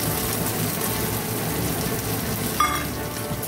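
Chopped onions frying in oil with black cumin seeds, a dense continuous sizzle close by, steady throughout with a brief stir or clatter near the end.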